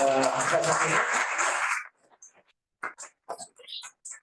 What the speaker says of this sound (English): So why don't we give a round of applause?